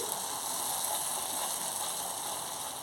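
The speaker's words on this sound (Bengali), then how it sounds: "মশলাটা একটু নেড়ে নিচ্ছি" Steady, even sizzling hiss of spice paste being stirred in a frying pan, cooking continuously with no voices.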